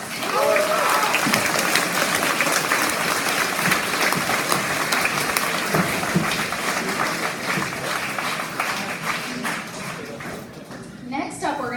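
Sustained audience applause fills a graduation awards ceremony, a dense wash of many hands clapping at steady loudness for about ten seconds before tapering off near the end.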